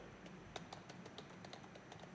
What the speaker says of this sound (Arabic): بدي اجرب اكتب على الكيبورد